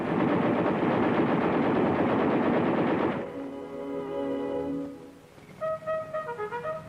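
Sustained heavy machine-gun fire from an M60 Patton main battle tank, loud and continuous for about three seconds before fading into music.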